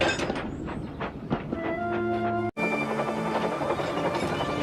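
A steam engine from Thomas & Friends runs along the track with a steady rolling chug, cut by a brief break midway and carried over sustained musical tones.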